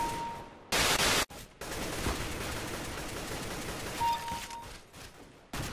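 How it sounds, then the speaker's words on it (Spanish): Gunfire in Counter-Strike: Global Offensive, a loud dense burst near the start followed by a lower continuous rattle of shots and a final short blast, with no talk. "¿Desde dónde están disparando?"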